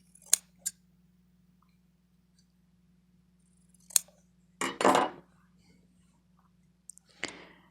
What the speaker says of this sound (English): There we go, all 4 corners cut.